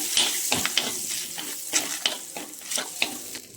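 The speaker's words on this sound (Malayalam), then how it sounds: "അതേ ചട്ടിയിൽ തന്നെയാണ് ബട്ടർ ഇട്ട് കൊടുക്കാവേ. ചെറിയ 2 കഷ്ണം പട്ട, ഒരു 2 ഗ്രാമ്പു, ബേ ലീഫ് ഇട്ട് കൊടുക്കാം." Whole spices — small pieces of cinnamon bark, two cloves and a bay leaf — frying in butter in a pan, a steady close sizzle broken by regular scraping stirs, with no talking.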